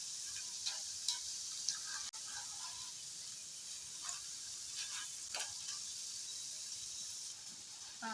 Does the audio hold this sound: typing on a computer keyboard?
no